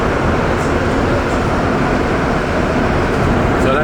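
Montreal Metro yellow line subway train running through its tunnel under the river toward Berry-UQAM station, a loud, constant rumbling roar heard from inside the car without pause.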